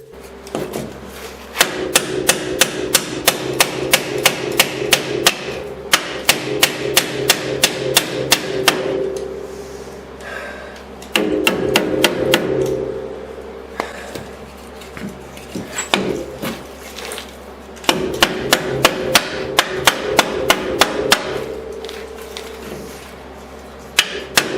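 A bushing is hammered into the rear of a 2009 Polaris Ranger in quick bursts of sharp metallic taps, with short pauses between each run of blows.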